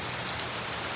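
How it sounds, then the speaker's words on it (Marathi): Light drizzling monsoon rain falls in the Konkan countryside, a steady soft hiss that runs through the whole second with no voices. "रिमझिम पाऊसच पडतोय."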